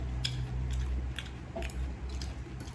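Quiet, close chewing of creamy carbonara pasta with ham during a mukbang, soft wet bites and squishy mastication spaced irregularly over a low steady background hum, with no talk.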